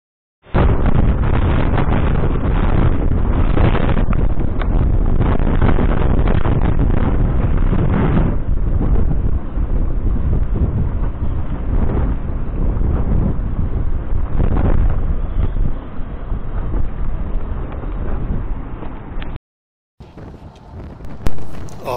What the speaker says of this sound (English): today we have the southeaster blowing